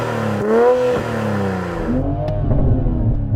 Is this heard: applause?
no